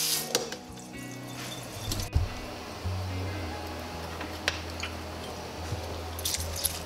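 Blueberries are sprayed with water to rinse them before jam making, giving a soft hiss with wet squishy splatter and occasional clunks nearby. A voice speaks briefly over it.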